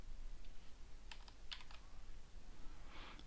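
Faint computer keyboard keys click a few times in a short burst, quiet key taps over a low background hiss with no talking.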